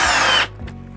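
A power drill drives a screw into the shroud of an RV air conditioner, a brief close whir that cuts off sharply after half a second, followed by a faint low motor hum.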